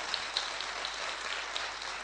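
Faint, distant applause from a training-session audience, a thin steady patter of clapping hands with no speech over it.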